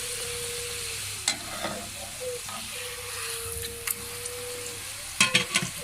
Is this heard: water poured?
no